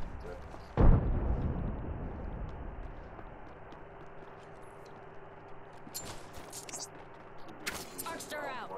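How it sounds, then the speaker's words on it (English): A missile launches with a sharp, booming blast in a jet-combat video game, followed by a long fading roar under steady engine hum, with a few faint later pops and chirps. "Fox 3, firing missiles."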